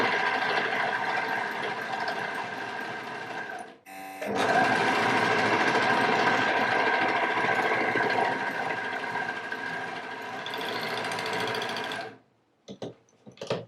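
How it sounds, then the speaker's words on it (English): An overlock sewing machine with a cutting blade stitches and trims fabric in a loud, steady whirring run, pausing briefly, then running again before stopping with a few short bursts at the end. "it does have a blade, so it kind of cuts as you sew"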